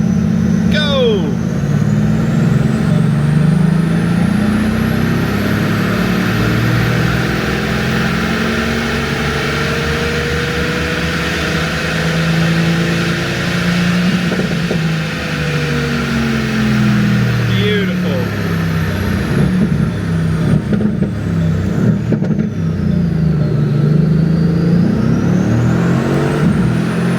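A Stage 2 Mercedes-AMG GT R with an Eventuri intake, downpipes and stock exhaust accelerates under load, recorded onboard as a loud, sustained engine drone that rises and shifts through gears without a break.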